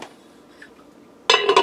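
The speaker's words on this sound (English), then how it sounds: "I'm going to put the lid on this" A lid lands on a Curtis Stone multi cooker pot holding rice, sauce, spices and ground beef, making a sudden loud metallic clatter with a couple of rattling knocks after a quiet stretch.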